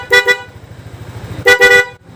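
A car horn wired with a relay onto a Yamaha NMAX scooter blasts two quick double toots, loud and close, separated by a short gap of low engine murmur.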